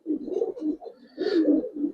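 Giribaz coloring pigeons coo in soft, low, throaty rolls, with two bursts of close cooing separated by a short pause.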